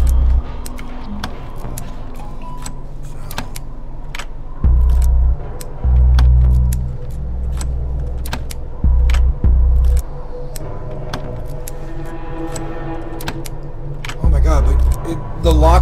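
A set of keys jangles and clicks against a door lock in the video game Distrust, with repeated metallic taps and rattles over a low rumbling background and bursts of heavier noise.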